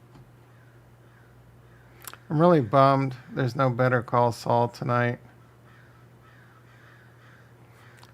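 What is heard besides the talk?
crows cawing outside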